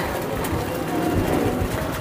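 Soft coos of racing pigeons in a loft blend into a low, busy background rumble, the cooing faint and repeated rather than distinct.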